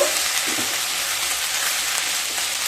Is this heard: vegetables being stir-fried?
yes